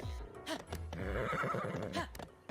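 A wild horse in the video game Zelda: Breath of the Wild gives a close, loud, quavering whinny that rises and falls, preceded by a short snort, heard alone without speech.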